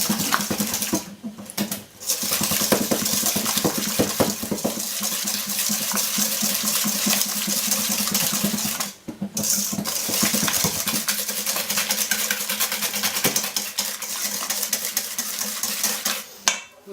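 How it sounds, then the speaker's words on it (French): Eggs being whisked with sugar in a bowl for a walnut and hazelnut brownie, a continuous fast scraping and clinking rattle close by, briefly pausing twice, with no talk. "Alors, on va blanchir les œufs. Voilà, avec le sucre."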